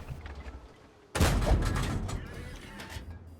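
A T71 tank's autoloader cannon firing in World of Tanks, a single loud, close blast that decays into a long rumbling echo over low background noise.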